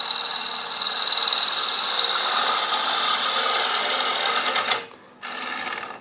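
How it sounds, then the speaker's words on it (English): A wood lathe whirs with a harsh, rasping scrape as a tool hollows out a spinning wooden piece, steady and close, then briefly cuts out before resuming. "So I'm just going to hollow this out now."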